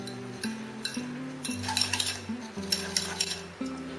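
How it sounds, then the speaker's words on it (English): Butter and sugar being whisked in a bowl, with quick metallic clinks and scrapes of the whisk against the bowl coming in uneven bursts over a steady low tonal background; no one speaks. "we are going to whisk this until it is light and fluffy"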